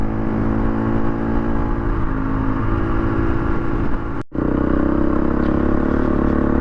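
A KTM 350 EXC dual sport motorcycle cruising at highway speed on knobby off-road tires gives a loud, steady engine drone with wind rush, a brief dropout near the end, then the drone resumes.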